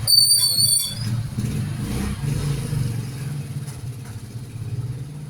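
Road traffic passes by, a steady low rumble of engines with a brief high squeal at the start, fairly loud and continuous, moving vehicles blending into a constant drone.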